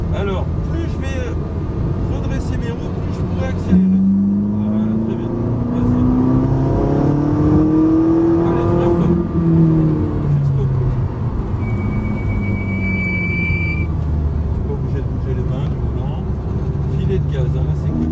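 A 740 hp supercar accelerates on a track with a deep, rising engine drone that climbs in pitch through the middle, heard from inside the car under continuous talking.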